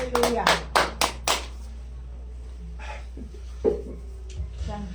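Congregation in a church clapping together in a brief burst of loud claps at the start, then fading into quieter room noise with scattered faint sounds.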